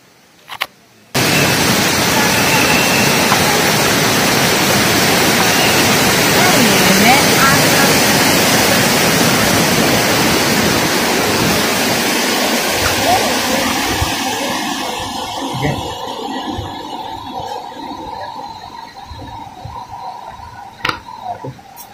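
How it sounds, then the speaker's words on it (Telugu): Rushing water at Kothapalli waterfall, a loud, dense roar that fills the scene for most of the time before fading to a quieter flow with occasional clicks. "ఈ వాటర్ ఫాల్స్ పైన లొకేషన్ చూసాం కదండి"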